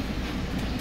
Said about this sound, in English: Oh, there's a train, look.